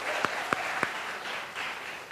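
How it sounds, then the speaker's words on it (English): At a university math fair, an audience gives participants a soft, distant spread of applause with a few sharp louder claps near the start, fairly faint throughout. "let's give our participants a round of applause, give them a cheer, give some encouragement"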